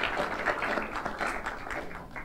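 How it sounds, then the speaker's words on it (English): A crowd in an auditorium at an archdiocese town hall applauds in a dense, sustained burst, loud and close, tapering slightly toward the end without any talk over it. "Worth a round of applause for that."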